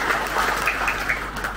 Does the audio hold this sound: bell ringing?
no